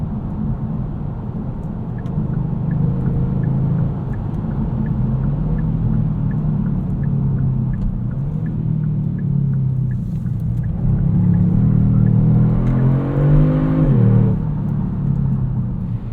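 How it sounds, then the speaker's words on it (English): Steady low engine rumble and tire roar from inside a 2022 Kia Stinger GT2 AWD V6 in sport mode, loud and continuous, swelling near the end as the engine revs up under acceleration. "Let's go back into sport mode, see how we handle a couple corners here."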